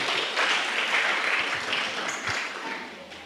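A congregation applauds steadily through a thanksgiving church service, a dense, even wash of many hands clapping at moderate distance with no break.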